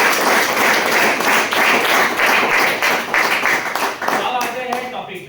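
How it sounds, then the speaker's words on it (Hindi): Audience applause at a training seminar in Mumbai, a dense burst of clapping from a crowd that fades toward the end, with voices audible as it dies down. "उनके लिए जोरदार ताली दीजिए।"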